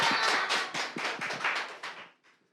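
An audience at a youth student rally claps for two quiz winners in a short burst of close, lively applause that quickly fades out to a few scattered claps.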